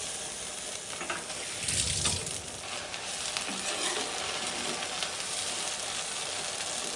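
Onions, green chilies, garlic and ginger frying in a pan for khichuri and beef curry, a steady close sizzle with a burst of stirring and scraping partway through, no voices.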